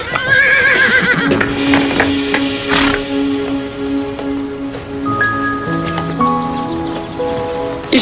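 A horse whinnies loudly and close by at the start, followed by a few hoof clops, with soft music tones sustained underneath for the rest of the passage.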